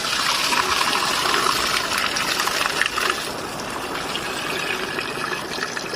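Water gushing steadily from a motorhome waste tank into a drain, a loud continuous rushing pour that eases slightly in its second half.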